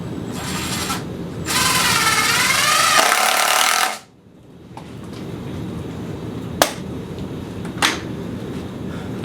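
A power drill drives screws into the leg of a small wooden children's picnic table: a loud, steady whirring burst of about two and a half seconds that cuts off abruptly, then quieter shop noise with a couple of sharp clicks.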